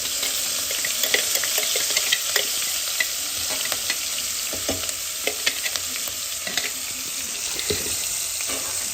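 Potatoes, cumin, ginger and chili roasting in a pan, a continuous bright sizzle broken by frequent scraping and stirring clicks of a utensil, close and fairly even in level, with no voices.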